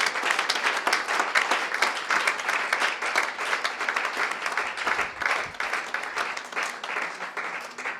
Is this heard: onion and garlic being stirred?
no